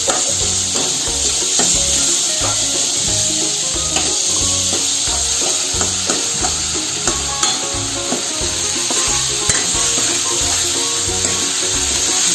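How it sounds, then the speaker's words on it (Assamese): Matikanduri curry with coriander and chopped tomato stirred in a pan, a steady sizzle of frying under repeated scraping and stirring strokes in a regular rhythm, close and fairly loud, with no talking. "এতিয়া লৰাই থাকিব লাগিব।"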